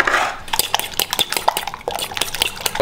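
Knife chopping cherry tomatoes into quarters on a cutting board, a steady series of short, crisp taps and clicks at close range with no talking.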